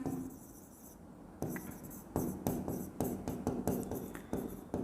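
Handwriting on paper while working through a company accounts problem, with a run of scratchy pen strokes that grow denser and more rhythmic after a quieter start, close and clear.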